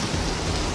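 Heavy rain in Vadnagar pours down as steady, dense broadband hiss, close and continuous through the short stretch with no voices.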